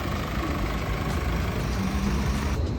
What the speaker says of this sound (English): And we got Corey pulling up with the bikes to bring them inside.